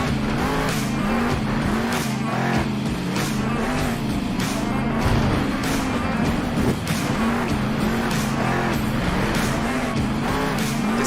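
Roaring monster truck engine in the Monster Jam video game, a steady loud drone with shifting revs and bursts of tire squeal and skidding throughout, no talk over it.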